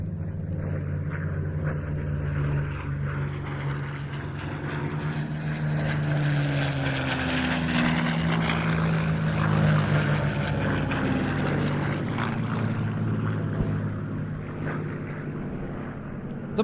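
A two-seat TF-51 Mustang named Contrary Mary, Dallas-built in 1944, flies at an airshow, its propeller engine a sustained loud drone that swells and shifts in pitch as it passes.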